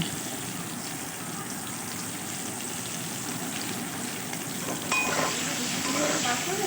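Cumin powder, turmeric, salt and green chillies fry in oil for a hilsa fish curry, a steady soft sizzle with a louder burst of crackling and stirring toward the end.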